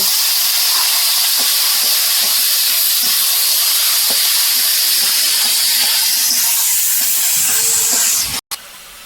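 Taro stalks hit a hot wok already seasoned with five-spice tempering, setting off a loud, steady, close sizzle that hisses throughout and cuts off abruptly near the end.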